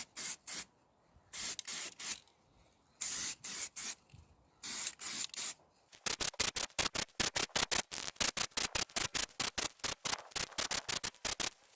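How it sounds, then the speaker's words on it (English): Spray can bursts hiss in short, repeated passes over an alloy wheel's spokes and rim: a few longer sprays at first, then a rapid series of quick regular bursts, close and crisp. "Start spraying the spoke sides and the wheel rim"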